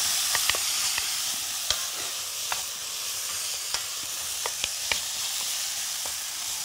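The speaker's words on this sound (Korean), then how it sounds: "볶아주세요." Kimchi stir-fried with gochujang and a little sugar in a pan gives a steady, close sizzle, broken by occasional sharp clicks and taps of a utensil against the pan, with no talking.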